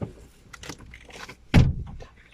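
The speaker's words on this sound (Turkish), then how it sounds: "Tamam kapıyı da kapat." A door is pushed shut with a single loud, close thump after a stretch of quiet shuffling and rustling, with a few faint rattles trailing after it.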